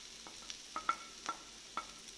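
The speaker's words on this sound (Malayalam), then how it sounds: "ഇതൊന്ന് ഇതിൻ്റെ പച്ചമണം മാറുന്നിടം വരെ ഒന്ന് വഴറ്റി കൊടുക്കണം." Ginger and garlic sauté in a pan for a clam meat roast, giving a soft sizzle under a few light spatula taps and scrapes spaced about half a second apart, quiet and close.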